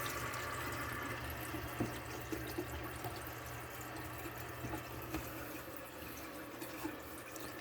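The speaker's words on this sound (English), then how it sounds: "We're going to run some water and see if we have any leaks." A bathroom sink tap runs steadily into the basin after a new tailpiece and pop-up drain are fitted, a soft continuous splashing flow with faint occasional drips, no voices.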